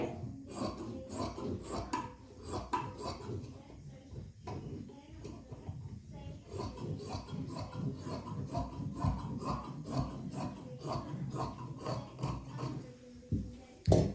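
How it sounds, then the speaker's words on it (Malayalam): Fabric being cut around a measured round outline for a full umbrella neck, giving a steady rubbing, rasping scissor sound that runs close and continuous, with faint talk at times. "അപ്പോൾ ഞാനിവിടെ ഈ ഒരു മെഷർമെന്റിലൂടെ റൗണ്ടിലൊന്ന് കട്ട് ചെയ്തെടുക്കുന്നുണ്ട്."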